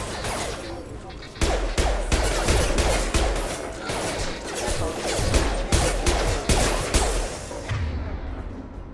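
Gunfire in Mass Effect 2: dense, rapid bursts of sharp shots and impact cracks, loud and close, running almost continuously after a short quiet opening, with a voice briefly heard among the shots.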